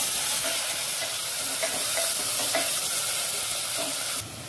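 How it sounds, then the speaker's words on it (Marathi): Onion fries in roasted spices in a pan for masala mint rice, producing a dense, loud, continuous sizzle with faint stirring scrapes, alone and close, dropping slightly at the very end. "त्यात कांदा टाकायचा। कांदा मस्त गोल्डन ब्राउन होईपर्यंत भाजून घ्यायचे।"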